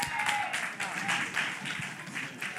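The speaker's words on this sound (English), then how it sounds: "Clap your hands for it, y'all" Community outreach session audience clapping, a continuous crowd-wide patter of many hands indoors, fairly full and even throughout, with faint voices mixed under it.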